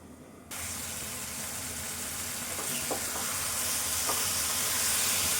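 Cluster beans fry in a pan, starting as a quiet hiss that jumps to a steady, fairly loud sizzle after a moment, with a couple of faint stirring clicks.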